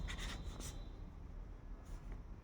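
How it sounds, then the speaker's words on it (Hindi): Pen scratching quickly across paper at a party game table, a soft close rubbing scrawl in short bursts that fades toward the end, with no talking. "मैं फटाफट लिख देती हूँ"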